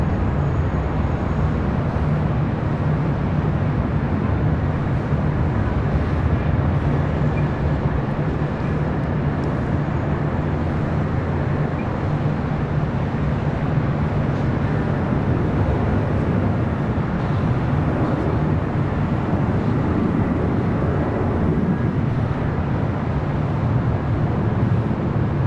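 An airliner takes off on runway 24 right at LAX, a loud, continuous broadband jet roar with heavy low rumble that holds steady for the full stretch.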